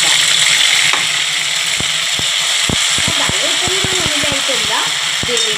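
Ground spice paste hits a hot pan while coconut dal cooks, setting off a loud, dense, constant sizzle close by, with sharp clacks of a utensil on the pan scattered through it.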